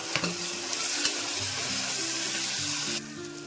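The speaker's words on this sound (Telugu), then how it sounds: "వేగిన తర్వాత చెంచా అల్లం వెల్లుల్లి పేస్ట్ వేసుకోవాలి వేసుకొని వేయించుకోవాలి" Ginger garlic paste and tomato frying in a pan, a loud close sizzle with stirring scrapes and a few knocks, running steadily before the sizzle suddenly drops to a quieter hiss near the end.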